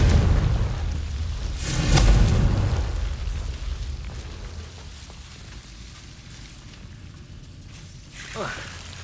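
Fiery blasting-curse explosion in the Hogwarts Legacy video game, a loud booming burst around two seconds that rumbles and fades, followed by quieter game ambience and a brief whooshing sweep near the end.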